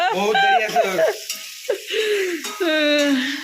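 Fuchka puris fry in hot oil, giving a steady hissing sizzle beneath close, almost continuous talking.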